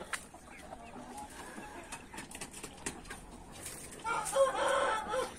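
A young cockerel, almost grown into a rooster, gives a short crowing call near the end, faint and somewhat distant over a busy farmyard background of clucks and rustling.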